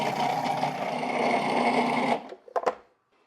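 Electric mixer whipping two sticks of butter with maple syrup, a steady close whir for about two seconds before it cuts off, followed by a few brief clanks.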